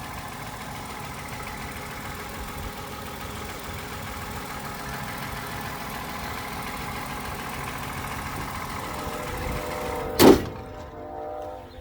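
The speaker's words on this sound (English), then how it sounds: "So here is your motor. Started right up. Sounds good." A 2012 Toyota Camry engine idles at a steady, low, even hum with no talk over it. Near the end a short, sharp mechanical clunk cuts through, and the sound quickly dies away.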